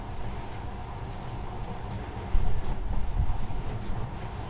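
A monorail train in the video game Metro: Last Light hums and rumbles steadily along with a low, droning rush of motion and faint high whine, growing slightly louder midway.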